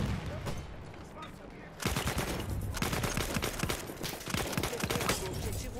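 Rapid gunfire from the World War I shooter Battlefield 1 on the Fao Fortress map, a dense rattle of repeated shots after a quieter opening, with someone talking over the battle.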